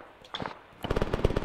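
Rapid semi-automatic rifle fire in a video game, a short burst near the start and then a quick run of sharp, evenly spaced shots, loud and close, with no talk.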